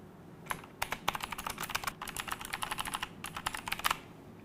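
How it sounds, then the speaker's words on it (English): Fast, crisp key clicks from a retro typewriter-style mechanical keyboard with LED backlighting, typed in quick bursts with brief pauses, close and clear in a quiet room. "Let's have a listen at what it sounds like to type on this keyboard."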